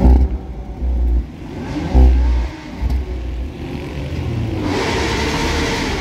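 A motor engine revs hard in bursts outdoors on a sunny São Paulo street, loud deep roars swelling and dropping, then settling into a steady high-pitched whine near the end.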